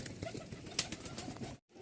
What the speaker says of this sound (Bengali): এখানে আরও এক পেয়ার কবুতর দেখতে পাচ্ছেন